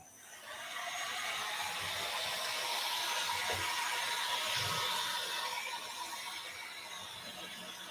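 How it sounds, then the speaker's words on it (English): A heat gun blows steadily over a loose watercolor landscape in an art journal, a continuous broad whoosh that starts after a brief quiet moment and holds at an even, fairly close level. "Let's get out my heat gun."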